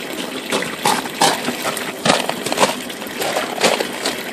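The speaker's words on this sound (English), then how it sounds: "I'm going to shoot a whole bunch of water down into the drain." A large volume of water rushes and surges down a drain in continuous gushing waves, loud and close, with no voices.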